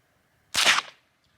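A single close, sharp .22LR rifle shot fired with Blazer ammunition at an outdoor shooting pit around sunset. It is one loud crack with a short fading tail, and no one speaks.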